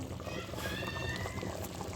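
A turmeric and onion paste curry for Mandya-style mutton saru bubbling in a pot, a soft continuous simmer with small pops and gurgles, quiet and close.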